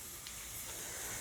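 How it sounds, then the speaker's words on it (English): A steady, close hiss of aerosol spray paint runs unbroken for about a second, a soft airy rush at constant strength, black paint sprayed onto car brake parts. "just going to spray bomb it"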